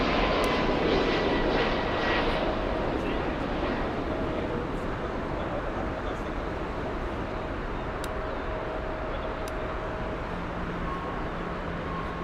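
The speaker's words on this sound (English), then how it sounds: "This is Delta Flight 86, inbound from Detroit, Michigan, on an A330-200." A Delta Airbus A330-200 arriving at Frankfurt Airport, a broad steady jet roar that stays loud and even for the whole stretch, heard from the ground with no voices.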